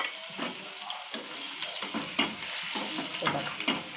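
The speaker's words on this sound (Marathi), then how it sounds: "ते मी ह्या तेलात भाजणार सगळं।" Egg pickle spice mixture of chilli powder, salt, pickle masala, fenugreek seeds and lemon juice fries in oil with a soft close sizzle broken by repeated stirring scrapes of a spoon in the pan.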